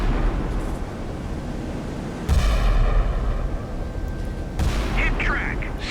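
Naval gunfire in the game Sea Power as Scharnhorst and Gneisenau battleships fire 11-inch guns at HMS Malaya: a rumbling barrage with two heavy booming salvos erupting over continuous low roar.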